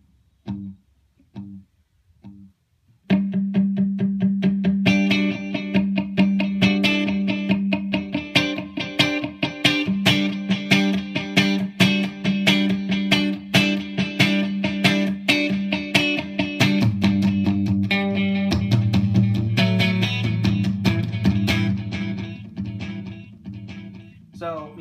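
Electric guitar played through a Boss DD-20 delay pedal in pan mode and heard in mono: a few sparse plucked notes, then a steady stream of picked notes with dense repeating echoes, mildly distorted and played continuously.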